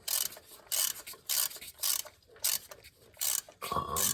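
A ratchet loosening the spark plugs on a 986 Porsche Boxster, passenger side, with repeated bursts of rapid clicking separated by short pauses, close up and alone.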